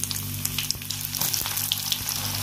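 Onions, green chillies, cumin and sugar frying in hot oil in a wok for a Bengali egg and potato curry, a loud continuous sizzle with scattered crackles and a low steady hum beneath.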